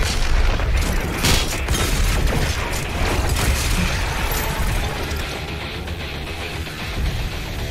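Explosions in the video game Doom Eternal, a dense booming burst with crackling debris layered over continuous game noise, loud at first and tapering off slightly over several seconds.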